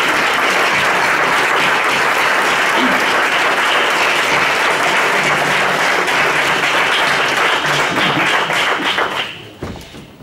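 Applause for a professor at a university ceremony of the Faculty of Psychology at UAM, a loud, dense crowd clapping that holds steady for about nine seconds, then fades quickly to scattered claps.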